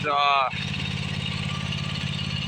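A Husqvarna GTH250 garden tractor plowing snow gives a steady, loud engine drone that runs unbroken after a brief voice at the very start.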